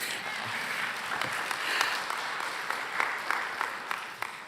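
A congregation at a Unitarian Universalist worship service applauds, a moderate spread of clapping with a few sharper individual claps standing out, lasting a few seconds.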